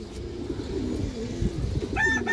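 A female pigeon with a black tail and light red eyes coos in low, repeated rolling calls, steady and close, with a brief higher chirping near the end.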